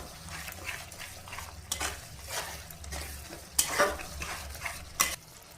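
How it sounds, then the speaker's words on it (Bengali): Masala gravy being sautéed in a pan, a low bubbling sizzle under repeated stirring scrapes and a few sharp clinks of a spoon against metal, close up with no voices. "আর একটু কষানো হোক"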